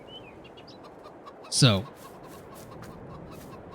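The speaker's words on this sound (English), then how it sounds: "Chickens." Chickens in a Farming Simulator 22 game give a single brief squawking cluck against a low background murmur, with a voice speaking briefly before it.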